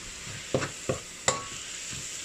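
Tomatoes stir-fried in a pan for a kingfish curry: a soft constant sizzle broken by three sharp spoon scrapes and clacks against the pan, close up with no talk.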